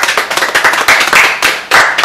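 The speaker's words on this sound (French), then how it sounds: "on peut quand même acclamer." Audience clapping and cheering after a musical performance, a dense, steady burst of many hands close by, filling the whole moment without speech.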